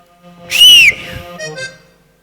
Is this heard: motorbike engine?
no